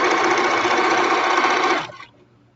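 A sewing machine used for stitching leotards runs at steady high speed, a dense close whirring buzz that stops abruptly after about two seconds, leaving quiet room tone.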